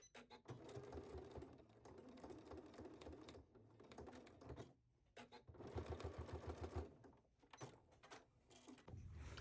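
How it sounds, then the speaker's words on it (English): A sewing machine edge-stitches fabric for a welt pocket, whirring in steady fast bursts with a short pause midway, close and fairly quiet. "And then we are going to edge stitch this at our machine."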